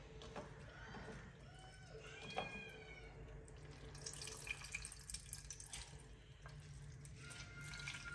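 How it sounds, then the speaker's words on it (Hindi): Water trickles and drips as crushed mongra pods are squeezed by hand to press out the extra liquid, faint and close in a quiet village kitchen. "इसी तरह मूंगरों का भी निकालेंगे, ताकि ये सारा जो एक्स्ट्रा पानी है ना ये निकल जाए।"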